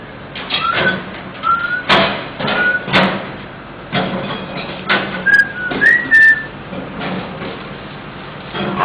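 A pet parrot named Didi gives a run of short whistles, clear rising and sliding notes scattered through the stretch, with household knocks and bumps between them close by.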